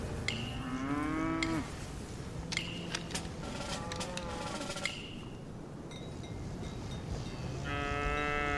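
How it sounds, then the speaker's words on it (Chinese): A calf moos several times near a riverside village, long drawn-out bellowing calls separated by short quiet gaps, fairly close and clear. "那个小牛犊是咱家新买的吗？"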